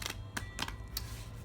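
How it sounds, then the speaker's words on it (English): Tarot cards are shuffled by hand, giving four brief, crisp papery clicks and riffles spaced unevenly, close but quiet over a low steady background hum. "I'm shuffling right here on camera."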